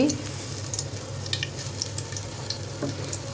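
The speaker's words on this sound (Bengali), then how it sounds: "এখন পেঁয়াজগুলো খুব সুন্দর করে ভেজে নিচ্ছি" Onions frying in a pan for a Delhi-style potato and meat curry give a steady, close sizzle with soft crackle and occasional stirring scrapes throughout.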